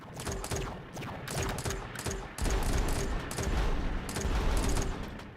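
Rapid bursts of gunfire from enemy tanks in the retro-style Xbox One video game Retro Tanks, clustered volleys repeating every half second or so with a steady low rumble and a faint tone underneath.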